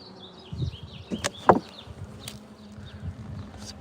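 Honeybees buzz and whine around an open backyard hive during an inspection, with close passes flying near the microphone over a continuous drone and occasional handling knocks.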